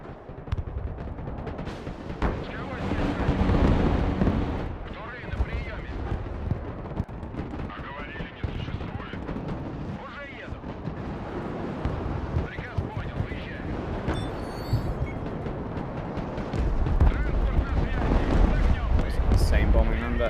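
Broken Arrow bombing run: a dense barrage of rumbling, overlapping explosions and heavy impacts fills the clip continuously, loud and chaotic, with voices talking amid the blasts.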